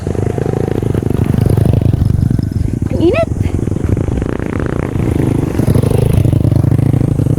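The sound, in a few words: habal-habal motorcycle taxi passing on a road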